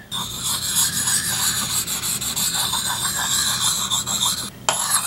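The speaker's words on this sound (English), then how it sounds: "I'm just going to sharpen this thing up, get it ground down, and see what we can get" Rhythmic rasping strokes of a Japanese scrub plane (herashi kanna) blade being sharpened and ground down, repeating steadily and close up.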